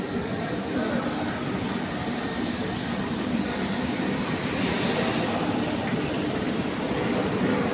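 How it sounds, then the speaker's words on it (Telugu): A train passes at railway platforms 4 and 5, its steady broadband rumble and wheel noise holding loud and continuous throughout with no voices. "ఒక ట్రైన్ పోతుంది ఒకటి."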